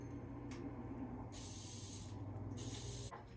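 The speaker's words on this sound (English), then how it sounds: "Guess I should spray this with cooking spray." Two bursts of cooking spray aerosol hiss, each lasting over a second, with a short pause between, close up over a low background hum in a kitchen.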